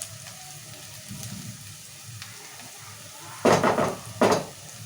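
Onions fry on a medium flame in a pan, a faint steady sizzle broken by two loud bursts of stirring and pan clatter near the end.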